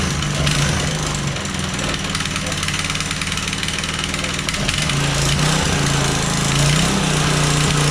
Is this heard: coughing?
no